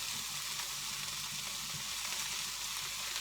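Vegetables and bok choy leaves stir-frying in a pan for an Asian vegetarian noodle stir-fry, giving a steady close sizzle with faint stirring scrapes and no voices.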